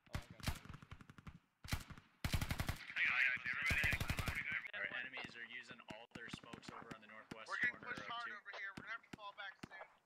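Bursts of machine gun suppressing fire in the Squad military shooter game, heavy rapid automatic volleys and scattered single shots near and far, with radio-like voice chatter weaving through the firefight.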